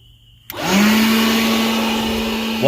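A Ryobi leaf blower starts up sharply and runs at a steady, loud whine close by, holding an even pitch for several seconds with no talk.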